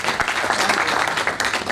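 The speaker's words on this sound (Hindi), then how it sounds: "तालियां बजाते रहे भाई।" Dense, steady applause from an audience at a political party founding event, continuous and full for the whole stretch, with no talk rising above it.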